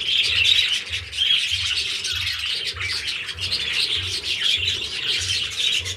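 Female and male parakeets chatter in an aviary, a dense, continuous mass of high chirps with a low cooing pulse repeating evenly beneath.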